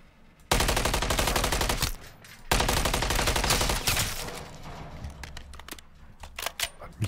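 Two long bursts of rapid automatic gunfire crack loudly in the zombie shooter Modern Warfare Zombies, followed by scattered single shots and clatter that fade toward the end.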